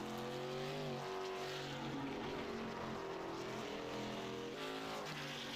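Race car engine in a sim racing game on the Charlotte Roval, a continuous loud high-revving whine whose pitch rises and dips with gear changes, close and steady throughout.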